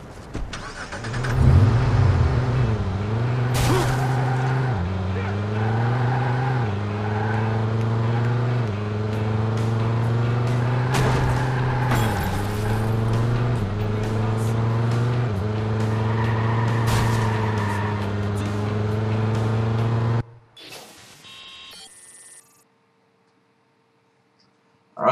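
A car drives in the Watch Dogs video game, its engine note rising and falling loudly through gear shifts and revs for about twenty seconds before cutting out to near silence.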